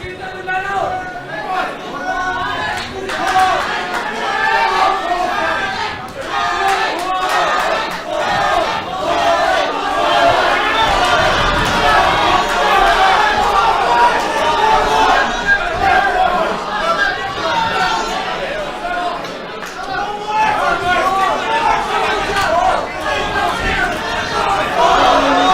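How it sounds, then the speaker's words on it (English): Boisterous crowd at a boxing match cheering, shouting and chanting throughout, dense and loud with rising bursts of yelling, no clear single voice standing out. "trying to stir the crowd on there."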